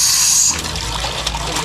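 Strong water rushes from a pump-fed tap in a Filipino home, a steady broadband gush that is loudest in the first half-second and then settles into a continuous, slightly softer flow.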